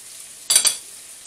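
Corned beef and white rice tossed into a wok over low heat, two quick close clattering bursts of food and utensil hitting the pan, then near quiet.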